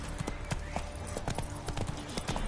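Rapid hoofbeats of the horse Roach galloping in The Witcher 3, a steady, quick clip-clop rhythm close by over a low rumbling game backdrop.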